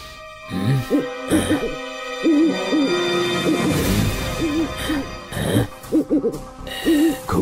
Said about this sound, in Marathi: घुबडाच्या रडण्याचा आवाज येतोय.